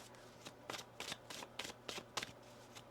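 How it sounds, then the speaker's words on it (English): Tarot cards are shuffled close by with soft, rapid riffling bursts, about eight quick flutters in three seconds, quiet and with no talking. "One more shuffle here."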